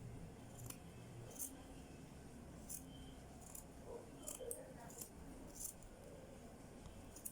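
Scissors cut fabric for a bolero with a string of short, crisp snips at an irregular pace, quiet and close, with no talk.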